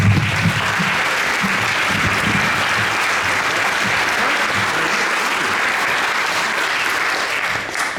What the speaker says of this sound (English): It could have been a long, awkward applause